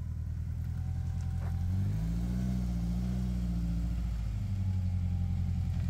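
A Honda Accord engine rumbles low and steady, pulling away from a stop with a gentle rise in revs, close and continuous with no talk over it.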